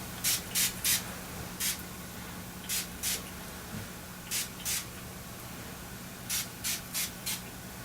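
A spray bottle used during a gemstone therapy session gives short, sharp hissing bursts, often in quick pairs or triplets, about a dozen spritzes spaced across a quiet room with a faint background hum.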